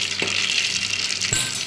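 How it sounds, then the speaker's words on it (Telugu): Cumin and mustard seeds dropped into hot oil for Rayalaseema-style uggani, giving a bright crackling sizzle with two small popping bursts, close and steady for under two seconds. "ఆయిల్ వేసాను, దీంట్లోకి జీలకర్ర ఆవాలు వేద్దాము"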